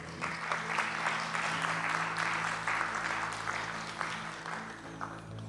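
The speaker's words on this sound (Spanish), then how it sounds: "dale un aplauso al Señor" A church congregation claps for the Lord during a Sunday service, a moderate, steady patter of many hands over a sustained organ or keyboard chord, fairly distant and soft.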